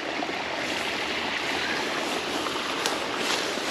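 A spate river runs after summer floods beside a woodland walk, giving a steady, full rush of water that carries on without a break. No voices are heard.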